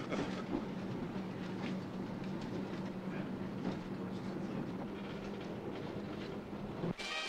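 Inside a moving train, a steady, loud rumble of wheels on rails runs throughout with faint rhythmic clatter, then a sharp knock near the end.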